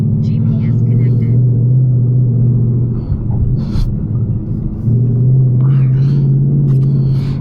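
A car fitted with newly installed Eibach springs drives along a road, giving a steady low rumble and engine drone throughout while a person talks over it.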